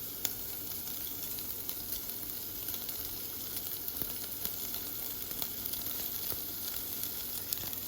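Crumbled tofu sizzles steadily in a hot pan, a continuous close hiss with faint crackles and no talking.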